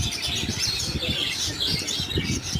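Small birds, including green parrots, chirp and tweet continuously in a park aviary, a dense overlapping chatter of high calls close by with no talking.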